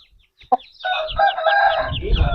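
An Aseel fighting rooster crows close by in a long, loud, sustained call after a short sharp sound, with low rumbling noise in the background.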